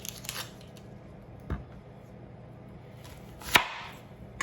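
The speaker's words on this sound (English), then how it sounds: "Cut the ends off." A sharp kitchen knife chops through the ends of a vegetable in two distinct, near cuts against a board, with a lighter tap at the close and quiet room tone between.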